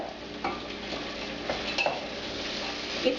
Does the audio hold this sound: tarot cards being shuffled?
no